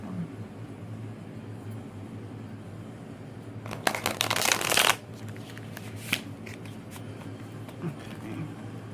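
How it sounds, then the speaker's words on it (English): A brisk burst of tarot card shuffling, riffling for about a second, with a few soft card taps afterward over a quiet room hum. "I'll do one more shuffle."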